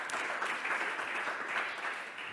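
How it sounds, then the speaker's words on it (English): A room of attendees at a tech talk claps for a presenter, an even, sustained wash of applause heard faintly and at a distance throughout. "Please give him a round of applause."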